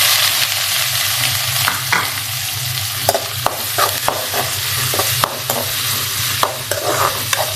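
Onions frying in oil with popped mustard seeds as a simple Tamil egg poriyal begins: a loud continuous sizzle broken by repeated sharp clicks and scrapes of a spoon stirring in the pan, with no talk.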